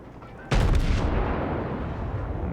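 A single heavy main-battery salvo from the Scharnhorst battleship in World of Warships bursts in as a loud, close boom, then rolls off into a long fading rumble.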